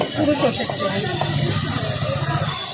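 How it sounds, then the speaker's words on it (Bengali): Chopped onion frying lightly in mustard oil for egg tadka at a street food stall gives a steady, close sizzling hiss that runs throughout, with indistinct background voices and bustle. "পেঁয়াজ হালকা ফ্রাই করে নেওয়া হচ্ছে আর এটা পুরোটা সর্ষের তেলেই করো"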